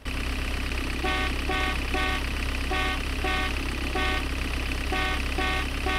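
A garbage truck horn in a video game sounds in short repeated toots, several bursts in an irregular rhythm over a steady engine drone.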